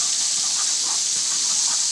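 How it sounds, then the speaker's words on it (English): Butter melting in a hot pan, a loud continuous close hiss and sizzle with slight fluctuations. "to the hot pan, you want to add a little bit of butter"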